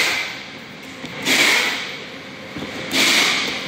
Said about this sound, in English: I'm going to remove the stripes, or the pieces of tape that's holding the middle